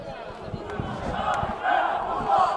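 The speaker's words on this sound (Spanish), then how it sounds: "vamos a cerrar con ese grito de guerra" A crowd of people at a San Fernando versus Pedrera final shouts a battle cry together, a loud chorus of voices rising and swelling in two surges toward the end.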